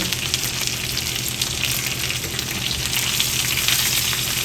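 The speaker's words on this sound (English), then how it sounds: "we'll get back over to the chicken because that thing is sizzling" Chicken sizzles steadily in a hot pan with little oil, a dense continuous crackle and hiss at even loudness with no voices.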